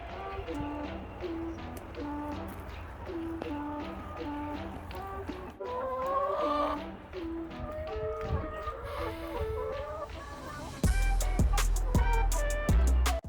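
Several chickens cluck and murmur close by in short repeated calls, with scattered tapping and a burst of louder clattering knocks toward the end.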